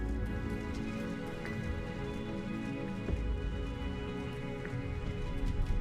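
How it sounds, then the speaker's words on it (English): Steady rainfall in Final Fantasy XIV, a dense, even hiss of drops pattering on surfaces that runs without a break, with nobody talking over it. "There's rain."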